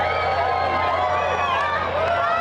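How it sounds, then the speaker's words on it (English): An excited crowd gathered for a solar eclipse cheers and whoops as totality approaches, many overlapping voices and shouts forming a loud, dense, continuous roar close around the listener. "Crowd's getting excited"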